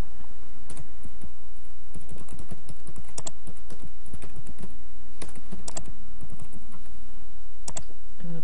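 Computer keyboard keys clatter in quick, irregular bursts of clicks, close and fairly loud, with a steady low background hum and no talking.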